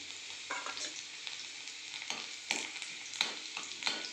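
Garlic frying in hot oil with a spoon stirring through the pan, fresh spinach going in for dal palak; a steady bright sizzle with repeated scraping strokes, close and alone.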